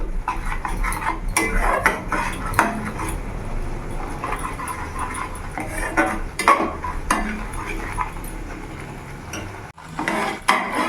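Spiced potato and pea curry with paneer stirred and fried in a pan, with steady clattering of a spoon against the metal and a busy, close kitchen clatter throughout.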